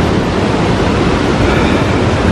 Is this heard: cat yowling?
no